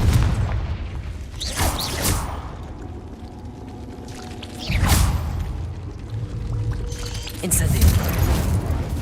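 Explosive Confringo spells cast in Hogwarts Legacy: three whooshing, booming blasts spaced a few seconds apart, each swelling and fading, with speech in between.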